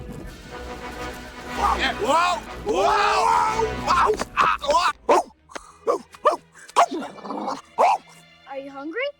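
A dog whines in rising, wavering cries, then gives a run of short, sharp barks and yips close by.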